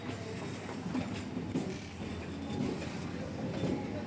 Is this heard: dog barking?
no